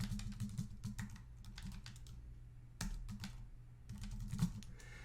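An email address is typed on a computer keyboard in quick, uneven clusters of soft key clicks, close and quiet, with brief pauses between bursts and no talking.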